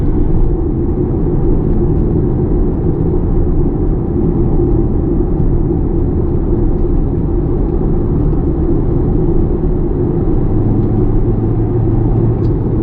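Inside a 2020 Audi Q3 Sportback accelerating in dynamic mode, a steady low engine and road rumble drones continuously, with no sharp rise in pitch across the run.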